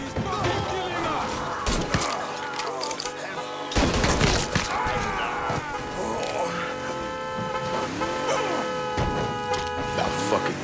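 Shotgun blasts ring out during a firefight in the video game Mafia III, several loud booming shots mixed with crashes and game music, while a voice shouts over the action.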